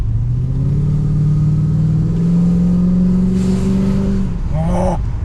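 Rebuilt Holden Commodore VX SS V8 engine revving hard while driving, a loud rising mid-pitched growl that climbs steadily in pitch, then drops sharply as the throttle lifts near the end.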